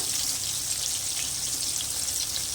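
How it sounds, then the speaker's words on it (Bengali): Fish pieces fry in hot oil in a pan for a bitter gourd and fish curry, giving a steady, close, even sizzle throughout with no talking. "সব মাছগুলো দিয়ে দিয়েছি, এবার আমি একটু লাল করে ভেজে নেব।"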